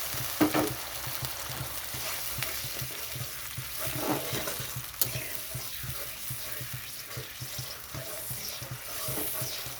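Water is poured into sizzling, well-fried masala in a pan while cooking a spicy bhoot chanda fish curry, giving a steady hiss and crackle with stirring scrapes throughout and no talking.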